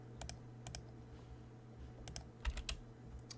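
Username and password keyed into a computer keyboard: sparse, quiet clusters of sharp key clicks over a low steady hum, with a slightly louder burst of keystrokes near the end.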